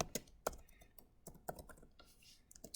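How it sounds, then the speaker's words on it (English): Fingers tapping out a name on a computer keyboard in a quiet room, a few separate keystroke clicks spaced irregularly and fairly soft. "let me type my name"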